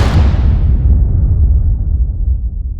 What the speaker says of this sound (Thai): ระเบิดที่นี่กันเถอะครับ